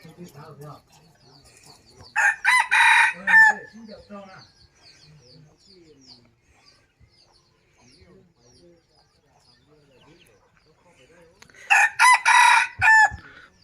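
A rooster in Oudomxay province, Laos, crows twice, loud and close, the two long calls about nine seconds apart, with only faint background sound and quiet voices in the gap between them.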